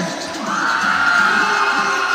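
A loud crowd shouting and cheering together, the roar swelling and holding strong for a couple of seconds.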